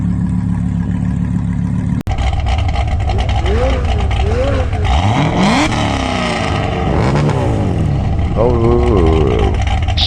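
A Lamborghini supercar engine in a video game revs up and down in repeated whining sweeps, loud and close, with other game sounds and voices around it.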